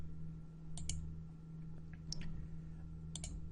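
Three sets of crisp computer mouse clicks while working in SolidWorks software, close and distinct and spaced about a second apart, over a steady low electrical hum.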